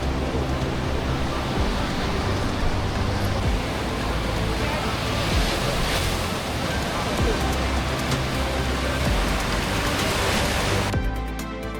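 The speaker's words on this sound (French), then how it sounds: "Petite ambiance de la plage de Macao." Steady, dense roar of surf breaking continuously at Macao beach in the Dominican Republic, a broad wash of waves that holds evenly throughout before a brief shift at the very end.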